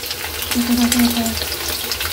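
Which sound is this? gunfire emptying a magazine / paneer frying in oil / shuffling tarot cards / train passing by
paneer frying in oil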